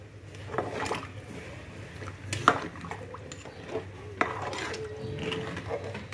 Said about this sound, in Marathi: छान हे पुन्हा एकदा हलवून घ्या, म्हणजे सर्व मसाले एकत्र मिक्स होतील